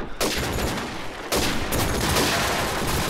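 Rapid bursts of gunfire from a video game during a LAN tournament match fill the clip as loud, dense, overlapping volleys that briefly drop out and then resume.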